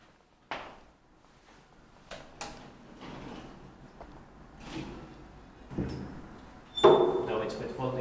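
The folding doors of a 1954 Kone traction elevator, modernized in 1999, clatter and slide with several sharp knocks and rattles, ending in a louder bang as they close.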